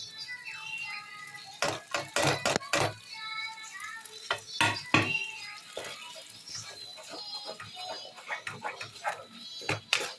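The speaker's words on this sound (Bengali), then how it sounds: "তো এই মশলাটাকে আমি একটু একটু কষিয়ে নিই" Chilli powder spice paste being stir-fried in a pan for potato dum, heard as clusters of sharp spoon-on-pan clatters and scrapes, loudest early on, then lighter intermittent knocks over a soft sizzle.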